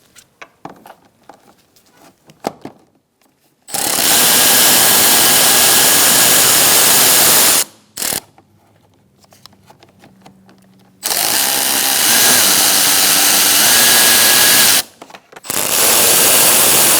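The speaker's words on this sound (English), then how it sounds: "Using an 8mm socket, we're going to remove 4 bolts holding our airbox cover on." Loosening the airbox cover bolts on a Ford Focus with an 8mm socket and a power tool produces long, loud whirring bursts close by. Quieter clicks and handling sounds fall in the gaps between them.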